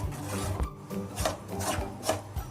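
Rice flour dough for pidi kozhukattai is stirred in a pan over a gas flame, giving close, rhythmic rasping scrapes of a spoon roughly every half second, with no voices.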